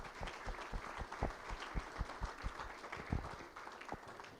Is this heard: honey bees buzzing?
no